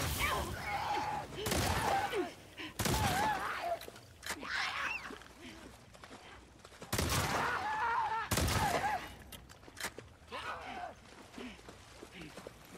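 Heavy shotgun blasts in The Last of Us Part 2, a few loud booming shots spaced seconds apart amid game noise and scattered speech.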